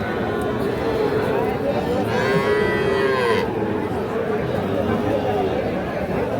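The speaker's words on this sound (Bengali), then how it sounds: "এগুলো দেখছেন, এগুলো সবই কিন্তু ষাঁড় বাচ্চা।" Young bull calves around four months old low at a busy rural cattle market in Bangladesh, several moos rising over steady crowd chatter and background hubbub.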